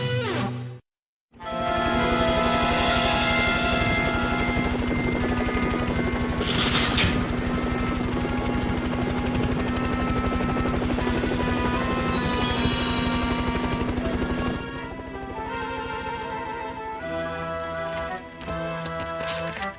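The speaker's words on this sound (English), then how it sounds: "We've got a chopper waiting." A helicopter in an animated action series, heard as a loud, steady close rotor and engine drone with a strong buzzing whine that holds for most of the clip, then drops in level near the end.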